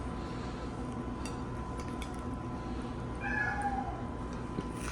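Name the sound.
cat meowing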